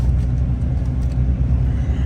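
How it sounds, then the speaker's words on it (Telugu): A Volvo 9600 sleeper bus cruises at about 90 km/h on a highway, giving a steady, close, low rumble of engine and road noise with no voices. "అది మన బస్సు క్రూజింగ్ స్పీడ్"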